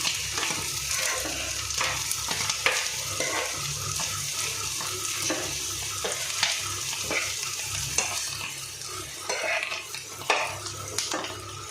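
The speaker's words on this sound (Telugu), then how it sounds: "మనం వేసిన కారం కూడా బాగా కలిసేలా మిక్స్ చేసుకుందాం" Goat meat curry with chili powder being stirred in a pan, a steady scraping and sizzling with clinks of the utensil against metal, close and continuous with no talk.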